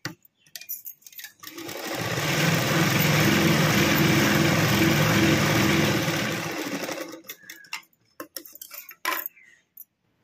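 A sewing machine stitches a princess-cut blouse in one steady run of several seconds, close and loud, with short clicks and handling noises before and after.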